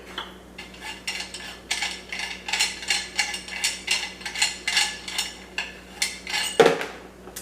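A KitchenAid mixer meat grinder attachment is twisted loose by hand, a rapid series of rhythmic metallic scraping clicks close up, ending in a sharper knock as it comes free.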